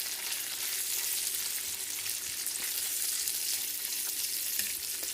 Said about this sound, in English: So we're just going to fry up a little bacon.